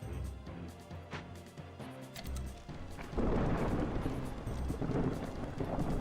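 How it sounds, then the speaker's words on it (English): Storm ambience from the video game Against the Storm: a low, steady rumble of wind and rain swells louder halfway through, like a building downpour with distant thunder, and no one speaks. "It's the storm."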